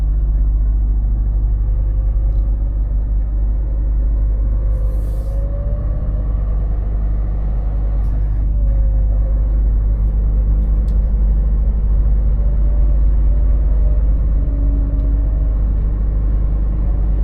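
A loaded Scania truck pulls away on an icy winter mountain pass, its engine a steady low rumble that holds throughout, with faint tonal whine and occasional creaks over the top and brief voices in the background.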